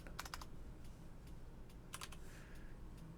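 Quiet, close typing on a computer keyboard, with a quick cluster of key clicks, a few scattered single taps, then another short burst over a faint background.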